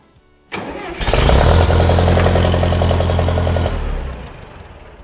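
A gas-burning 1968 model 135 tractor engine cranks and catches at about one second, then runs loud and close with a steady, throbbing idle before easing down near the end.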